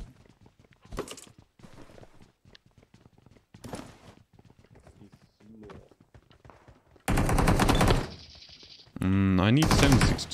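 PUBG Mobile gunfire, with scattered clicks and movement under voices, then loud sustained bursts of rapid shots near the end.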